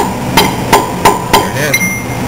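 Four sharp, evenly spaced hammer taps ring out close by as an injector is seated in a Cummins N14 Celect Plus diesel engine, followed by a fainter metallic clink.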